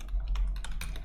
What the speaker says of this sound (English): Simply typing in the email that you used for registration.